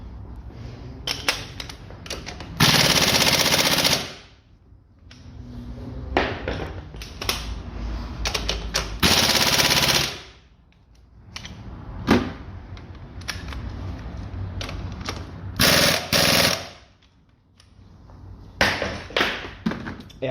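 Impact gun drives a screw into an engine mount on a 2005 Ford Focus Mk2. Three loud buzzing bursts of about a second each stand out against scattered clicks, taps and workshop handling noise.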